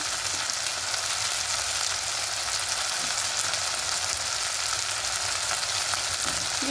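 Ground turmeric, coriander, cumin and Kashmiri chilli powder cook in a pan with a splash of water for potato curry, producing a steady close sizzling hiss with faint stirring, alone without talk.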